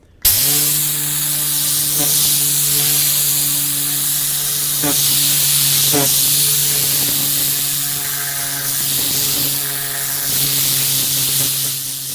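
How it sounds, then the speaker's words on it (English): A handheld air blower drives a loud, steady rushing stream of air through a car interior during detailing, holding continuous with a few brief rattling bursts as debris is blown out. "you can vacuum first and then blow everything out, or just jump straight into blowing and just open everything up"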